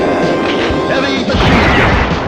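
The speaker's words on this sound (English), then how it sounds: "Rocket launcher." Rocket launcher fire in the Metal Slug arcade shooter: loud booming blasts and crashing explosions packed together, thick and noisy over a short stretch.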